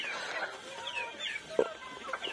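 Three backyard pet ducks left outside the pen near nightfall let out scattered, nasal calls with one sharper, louder cry midway, fairly close.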